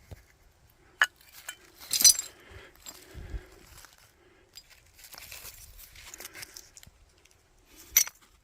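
Old glass shards from a late-1800s ghost town clink and tinkle as they are handled during metal detecting, giving a few sharp, sparse clinks separated by quiet rustling.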